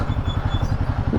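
Royal Enfield motorcycle engine, riding out on the road to Leh in the Himalayas, with a steady low pulsing thump that stays loud and close throughout, no one speaking over it.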